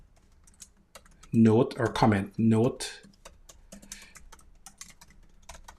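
Keys on a computer keyboard click in quick, irregular bursts of typing. The clicking is close and fairly faint, and a speaker talks briefly over it.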